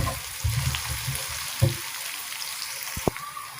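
Onion with garlic-ginger paste frying in a pan for a Pakistani besan and egg khandoiyan dish, a steady soft sizzle with occasional stirring scrapes and clinks, close and moderately quiet.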